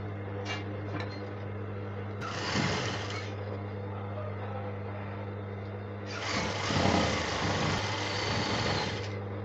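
Sewing machine stitching a seam allowance in two rapid bursts of mechanical rattling over a steady low motor hum, with a short pause between the runs.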